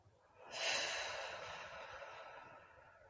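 A slow, deliberate exhale released during a guided breathing exercise, a soft airy rush that swells quickly and then tapers gradually, close and alone with no talk.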